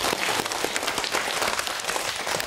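Children clap together in sustained, dense applause, loud and steady throughout with no talking over it.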